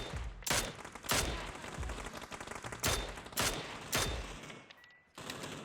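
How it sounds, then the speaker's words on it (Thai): Tap-fired gunfire at practice targets in PUBG: about seven sharp, loud shots in irregular single and paired bursts, each with a short echoing tail and brief pauses between. "แนะนำว่ายิงตัวละสี่นัดนะครับผมเพราะว่าในแมตช์นะครับ ตัวละสี่นัดถึงจะตายนะครับ"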